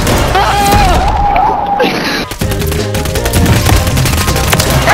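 Video game gunfire in a flamethrower-and-cursed-guns shooter, a dense loud fusillade of shots and booms with a sharp burst around the middle, under excited voices talking throughout.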